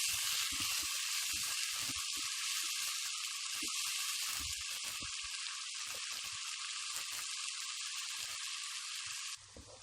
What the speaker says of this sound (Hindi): अदरक लहसुन का पेस्ट और सब्ज़ मिर्च तो इसमें शामिल की थी, ये अब फ्राई हो गए हैं